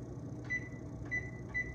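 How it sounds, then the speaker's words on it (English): A kitchen oven's control panel gives three short, clear electronic beeps spaced roughly half a second apart over a low background hum. "Let me turn my oven on."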